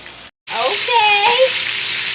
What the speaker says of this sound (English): Now I'm ready to season the steak and put it in the pan.